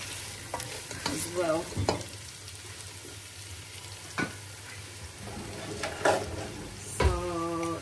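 Green peas frying and sizzling in a pan while a spoon stirs in spices, with scraping strokes and brief clanks over a steady sizzle and a few quiet words.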